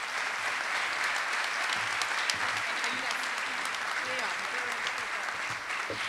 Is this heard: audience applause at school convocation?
yes